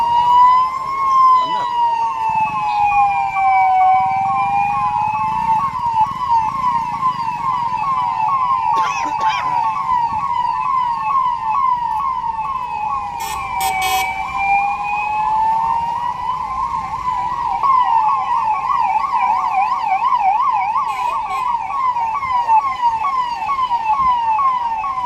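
Several sirens from a fleet of new ambulances in Mainpuri, India wail together continuously, rising and falling, loud and close, with faint voices beneath.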